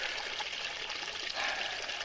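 Water trickling and dribbling off a big rock formation in a wintry state park with icicles, a steady close hiss of running water, alone and fairly quiet throughout.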